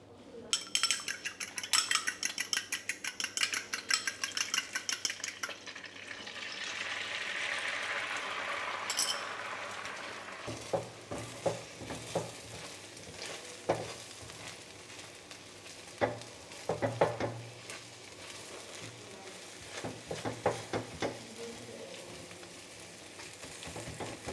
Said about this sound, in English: So we're going to fry some egg first